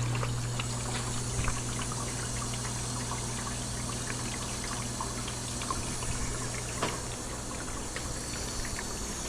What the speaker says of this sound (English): slowly filling up our trough